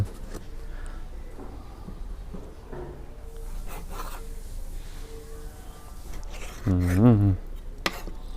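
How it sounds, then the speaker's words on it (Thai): A knife chops food while a bitter Isan chili dip is prepared, with scattered soft taps and scraping, close by. Someone speaks briefly near the end. "มาครับขออนุญาตหั่นก็ได้ครับผม"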